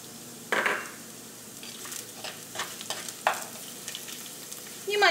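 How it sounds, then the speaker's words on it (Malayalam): Turmeric powder frying in coconut oil over medium flame for a spicy potato curry: soft sizzling with several scrapes and stirs of a spoon in the pan, close and fairly quiet. "ഈ മഞ്ഞൾപ്പൊടി ഈ വെളിച്ചെണ്ണയിൽ കിടന്ന് നന്നായിട്ട് മുരിഞ്ഞിട്ട് ആ മഞ്ഞളിൻ്റെ പച്ചക്കുത്തൊന്ന് മാറണം"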